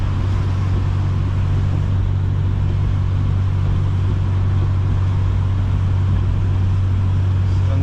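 An 8th-generation Honda Civic Si cruises in sixth gear through rain, heard from inside as a steady low engine drone and road rumble with a constant wash of tire and rain noise.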